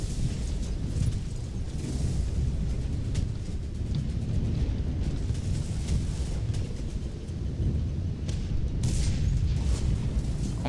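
A Sd.Kfz. 234/2 Puma armoured car fires its gun in the video game War Thunder, with booming shots over a continuous low engine and wind rumble.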